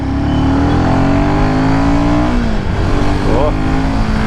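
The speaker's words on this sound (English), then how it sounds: "Let's see the pickup of the brand new Himalayan out here." A Royal Enfield Himalayan 450 motorcycle accelerates on an open road. The loud engine drone climbs steadily in pitch, drops with a gear change, then pulls again, all under rushing wind noise.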